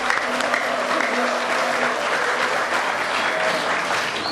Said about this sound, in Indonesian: marilah kita berikan tepuk tangan sambutan yang meriah untuk kita semuanya